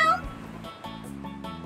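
A cartoon cat gives a short meow at the start, brief and close, then fades beneath light background music.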